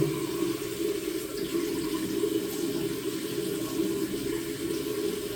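Cold water running steadily from a bathroom tap into a sink, a constant even rush of flow heard close up without pauses or voices.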